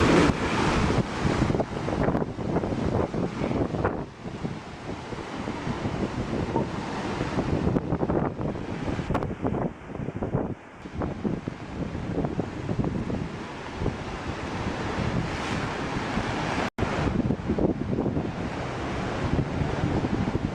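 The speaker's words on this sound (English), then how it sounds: "We're just sustaining incredible wind gusts right now" Powerful, relentless hurricane wind during Superstorm Sandy roars and buffets the microphone nonstop, with surging gusts and a rushing, surf-like wash throughout and no voices.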